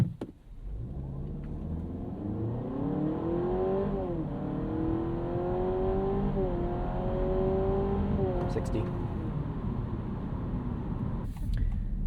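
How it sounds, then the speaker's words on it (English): A 2025 Honda Civic Hybrid accelerating from 0 to 60 in sport mode, heard from inside as a steady engine drone that rises in pitch through several shifts, with a brief voice at the start and a thump near the end. "We'll just roll into it here and do a little 0 to 60"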